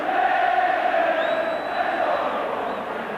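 A football crowd at a 1987-88 Liverpool vs Everton match chants for Peter Beardsley, a loud, sustained roar of massed voices with a steady sung tone carrying throughout.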